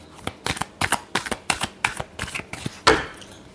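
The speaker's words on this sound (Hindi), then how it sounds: "last shuffle" Tarot cards being shuffled by hand in a series of about nine crisp riffling bursts at a steady rhythm, close and fairly loud, with the last burst the strongest; no voices.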